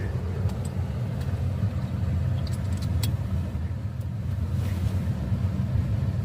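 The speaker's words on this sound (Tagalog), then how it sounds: "Kawa-warm up lang yung sasakyan natin." A car engine idles steadily through a snowstorm in Canada, a continuous low rumble mixed with wind buffeting the microphone, with a few faint ticks and clicks over the top and no talking.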